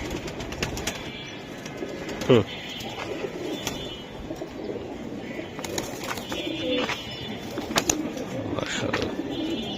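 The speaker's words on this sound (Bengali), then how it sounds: "দুইটা কবুতর দেখাইতাছি ভাই" Silver Giribaz pigeons coo in soft, repeated low calls close by, with one louder burst partway through and a few sharp clicks and rustles, while someone talks quietly in the background.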